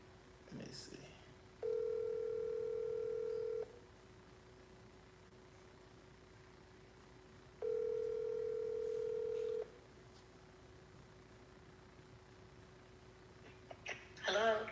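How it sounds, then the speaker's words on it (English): A telephone line tone sounds in two steady, even bursts of about two seconds each, separated by a long pause, with brief voices at the start and end. "Hey, Gigi, I'm about to call you."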